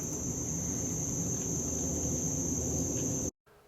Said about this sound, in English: Now, please relax and enjoy the sights and sounds of a cypress swamp.